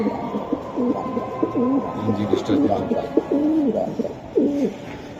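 A pair of racing pigeons coo close by in a steady series of soft, throaty, rolling calls that overlap and repeat for several seconds.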